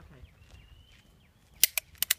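A prop gun fires on a film set, giving four sharp cap-gun pops in quick succession near the end, loud and close, after a stretch of quiet room noise and a faint whistle-like tone.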